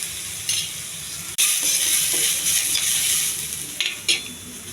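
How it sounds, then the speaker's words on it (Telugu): Onion, curry leaves and green chilies frying in a pan for a soya paneer dish, a loud steady sizzle with a few stirring scrapes and clinks, no voices. "ఉల్లిపాయ, కరివేపాకు, పచ్చిమిర్చి ఇవన్నీ దోరగా ఎగించాలి"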